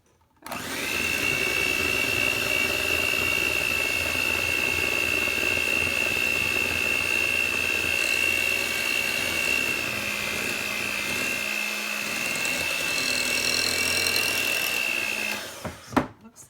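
An electric mixer beats batter at medium-high speed, a loud steady whine that holds for about fifteen seconds before cutting off, with a few clunks at the end and no voices.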